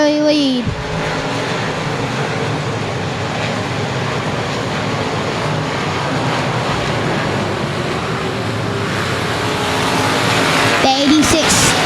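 Race cars roar around the Cotton Bowl Speedway track in a loud, steady wash of engine noise that holds throughout, with a brief pitch sweep of a passing car near the start.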